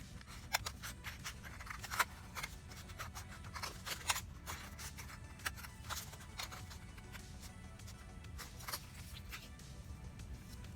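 Scissors snip through cellophane for a craft-kit frame, with a rapid run of crisp, close cuts and light crinkling at an uneven rhythm.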